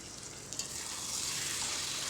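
Spices and vegetables sautéing in a pan for a vegetarian dish: a continuous close hiss of frying that swells slightly midway, with a faint stir or tap near the start and no voices.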